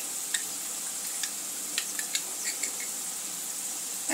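Onions softened in a pan crackle quietly with a sprinkling of sharp pops as ginger-garlic paste cooks in, a steady low sizzle under scattered spits.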